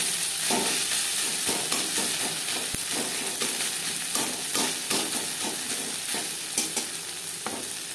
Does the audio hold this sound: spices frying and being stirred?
yes